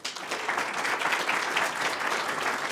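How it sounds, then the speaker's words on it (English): Applause from an audience at a panel discussion on affordable housing and transit-oriented development: steady, dense clapping that fills the room at moderate level, with no talk over it. "So a round of applause."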